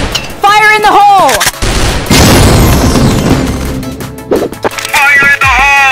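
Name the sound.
grenade explosion in video game Crossfire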